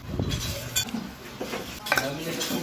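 A spoon stirs hot sour pork-head soup in a bowl, with soft scrapes and a few light clinks close by, mixed with breathy puffs of blowing; faint background noise throughout.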